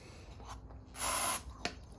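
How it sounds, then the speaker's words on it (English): Carb cleaner sprays in one loud hissing burst into the butterfly of a Yamaha VMAX carburetor with its diaphragms pulled back, framed by softer handling clicks and rubbing. "Pull these diaphragms back and just kind of spray that butterfly in there."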